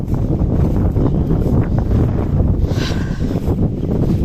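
Strong wind buffets the microphone out in a sesame field during the monsoon season, a loud continuous low rumble with gusty surges throughout and no talking.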